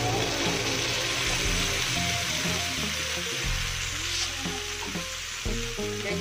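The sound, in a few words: chayote added to hot fragrant spice paste, frying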